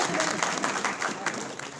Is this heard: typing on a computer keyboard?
no